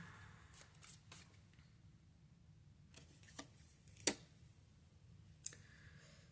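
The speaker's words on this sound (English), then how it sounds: "Hold on, I gotta fix these cards." Tarot cards handled and straightened on a table: a few scattered light taps and shuffling clicks, one sharper snap near the middle, quiet and close with low background hum.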